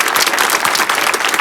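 Studio audience applauding during a comedy show, dense continuous clapping from a crowd, loud and steady throughout the short moment.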